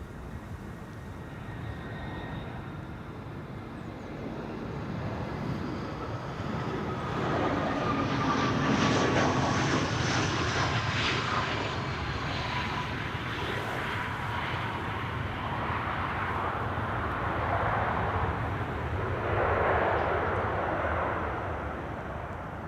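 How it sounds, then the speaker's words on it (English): Lufthansa airliner arriving from Frankfurt at Amsterdam Schiphol, a jet roar swelling from a distant rumble to a loud broadband rush with a descending engine whine, easing off, then surging again near the end, no talking. "This is Lufthansa flight 992 arriving from Frankfurt."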